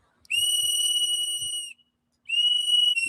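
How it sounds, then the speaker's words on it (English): A protester blows a whistle in two long, loud, piercing blasts, the first lasting over a second, then a brief pause before the second begins; no talking is heard. "Why are you blowing your whistle, sir?"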